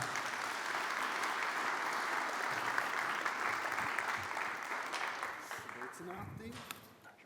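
An audience applauds to welcome a speaker at a climate change talk, producing a steady mass of clapping that is fairly distant and soft, tapering off near the end as a voice comes in.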